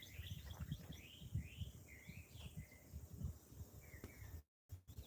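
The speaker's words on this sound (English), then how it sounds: "The birds are beautiful. I just like enjoy sitting and listening to them sing." Cardinals, or redbirds, sing outdoors near a backyard chicken coop, their clear whistled phrases repeating several times at moderate distance over a low rumbling background, with crickets and other birds faintly chirping, before a brief dropout near the end.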